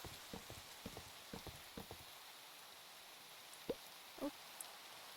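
A video game rainstorm in a homestead setting: steady hiss of rain on surfaces, with soft scattered thumps early on and a few sharper taps later, continuous and moderately quiet.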